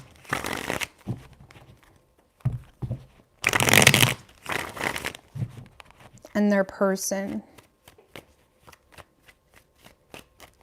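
Tarot cards shuffled by hand in several short riffling bursts, close and crisp, between stretches of a person talking.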